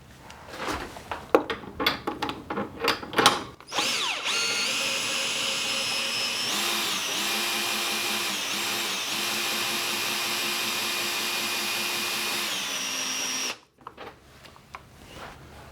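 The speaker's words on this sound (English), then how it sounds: "I have an adapter, and I just put that in my drill" A power drill whirs steadily at close range for about ten seconds, pitch dipping slightly under load as it turns a lift crank through an adapter, preceded by clicks and handling noises.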